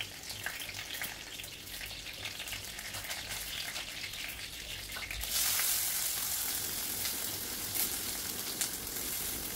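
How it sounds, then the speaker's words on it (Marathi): Mustard seeds, cumin, curry leaves and onion fry in hot oil in a kadhai with a steady, close crackling sizzle that grows into a brighter, harsher hiss partway through; no voices are heard. "तेल गरम झाले की यात मोहरी, जिरा, कढीपत्ता आणि कांदा घालून मिनिटभर परतून घेऊ।"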